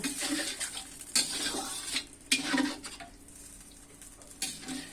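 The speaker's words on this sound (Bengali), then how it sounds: "জলের সঙ্গে পটলগুলো এভাবে মিশিয়ে নিব" Pointed gourd simmering with a little water in a pan, stirred with a spoon that scrapes and clinks against the metal in irregular strokes, with a soft sizzle underneath and no talking.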